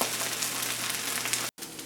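Canned mushrooms frying and browning in a pan give a steady, dense sizzle with no speech, cut by a brief gap of silence near the end before the sizzling resumes.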